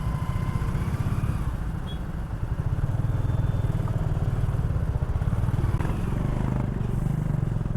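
Motorcycles and cars idle and creep through heavy road traffic on a bike ride to a temple, a continuous close engine rumble with clattering and a few horn-like tones rising over it.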